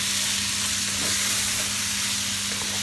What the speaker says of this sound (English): Now give that a little stir.